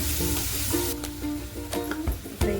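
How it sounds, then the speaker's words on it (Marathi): Onion sautéing in oil in a pan for a radish-leaf bhaji, a loud, steady sizzle close up with occasional scraping and stirring clatter. "कांदा परतून घ्यायचा"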